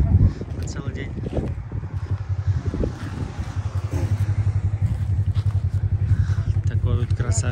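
A rented Polaris RZR off-road vehicle's engine idles and thrums steadily nearby, under wind buffeting the microphone and people talking over it.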